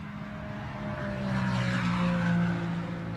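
A Ferrari Challenge race car passes on the Indianapolis circuit during qualifying, its engine note steady and fairly loud, swelling slightly in the middle as it comes round, with a faint tire-squeal or skid texture over the roar.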